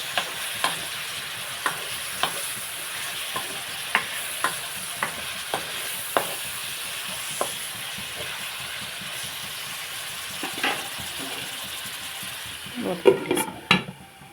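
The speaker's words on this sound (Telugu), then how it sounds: "మనం ఇప్పుడు కలిపేసుకొని వంకాయ కూడా బాగా మగ్గిన తర్వాత మామిడికింపులు వేసుకున్నాం" A spoon stirs a brinjal and raw mango curry in a pan over a soft continuous sizzle, with regular sharp scraping taps about once a second, then a busier clatter of stirring near the end.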